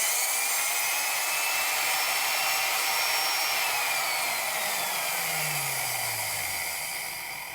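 A vintage 1950s Milwaukee HS-114 quarter-inch Hole Shooter drill, single speed with no variable trigger, runs at full speed with a steady high motor whine that holds throughout, then begins to wind down near the end, with no talk over it.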